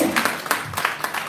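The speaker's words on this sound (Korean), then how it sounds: "박수." Audience applause at a church world mission conference in Jeju, a short burst of scattered handclaps in a hall, moderately loud and fairly close, with a brief murmur of voices underneath.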